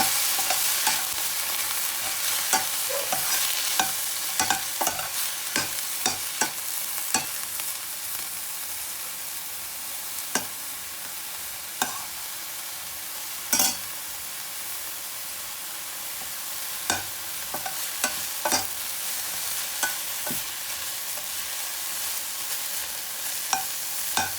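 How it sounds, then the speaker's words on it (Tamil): Broccoli being stirred and sautéed in a hot pan, a constant loud sizzle broken by frequent sharp scrapes and clinks of a spoon against the pan, with no talking. "ப்ரொக்கோலி போட்டு நல்லா வந்து வதக்கிடலாம்."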